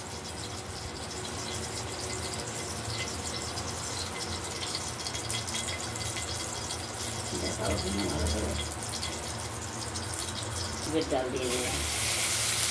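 Mung lentils are swished and rinsed in water in a kitchen: continuous quiet sloshing and trickling, with a few brief splashes and a sharper rush of water near the end.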